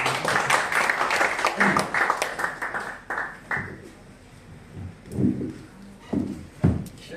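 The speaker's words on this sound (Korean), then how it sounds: "우리 저 김병돈 유관 수고했다고 박수 드립니다" Audience applause at an extraordinary general meeting, a burst of brisk clapping for about three seconds that then fades, followed by quieter scattered sounds and voices.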